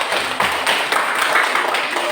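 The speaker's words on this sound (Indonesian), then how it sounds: "Tepuk tangan untuk Joel." Audience at a church gathering clapping steadily and fairly loudly, a dense continuous patter of many hands with no voices standing out.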